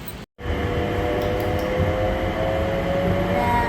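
The interior of a moving train in Malaysia, with a steady loud rumble and mechanical hum that runs unbroken after a brief cut near the start.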